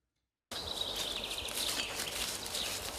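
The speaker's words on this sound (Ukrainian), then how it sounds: "Нам чути шурхотіння листів під ногами та спів пташок" Birds sing and chirp in a forest, with leaves rustling underfoot close by; the sound cuts in after a brief silence and continues steadily at moderate level.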